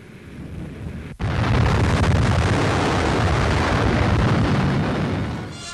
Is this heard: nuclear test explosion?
yes